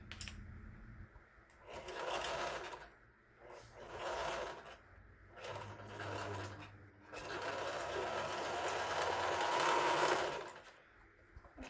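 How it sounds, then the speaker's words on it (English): A home sewing machine stitching a fabric face mask, with several faint bursts of rapid motorized stitching separated by short pauses, ending in a longer continuous run. "I start sewing."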